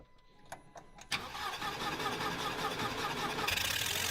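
A car engine cranks briefly, then catches and runs, settling into a loud steady idle after a few faint clicks and a short silence.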